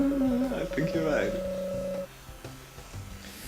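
Telephone dialing in the video game Deadly Premonition: a string of steady electronic tones and beeps up front, then fading to quieter clicks, with a person talking over it.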